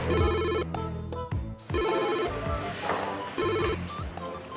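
A mobile phone rings with a repeating electronic melody, bursts recurring in a steady pattern with brief gaps, loud and close, no talk over it.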